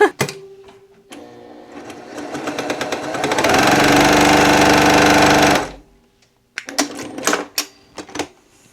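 A Brother PQ1600S semi-industrial sewing machine stitching, first in short bursts, then ramping up to a loud, steady full-speed drone for several seconds before stopping, followed by a few clicks and knocks.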